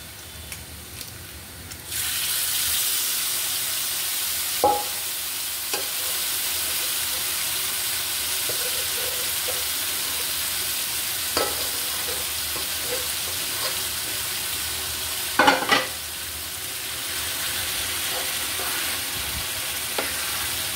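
Taro greens stirred and fried with shrimp-style dried fish in a pan, a steady broadband sizzle throughout with a few sharp scraping clinks of the spatula, louder stirring bursts around the middle and later on.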